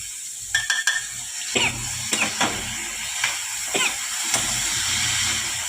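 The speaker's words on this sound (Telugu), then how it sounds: "ఈ బౌల్ నిండా నానబెట్టిన పెసరపప్పు అనమాట ఇది ఈ పెసరపప్పుని వేయండి వేసి కొంచెం తిప్పుకోండి" Soaked moong dal being stirred into cooked onions in a pan: sharp scrapes and clinks of a spoon against the pan come in irregular bursts over a faint, steady sizzle.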